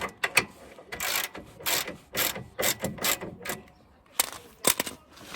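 A ratchet loosens bolts on the front wishbone of a 2010 Ford Focus MK2, with several bursts of rapid clicking close by separated by short pauses and no talking.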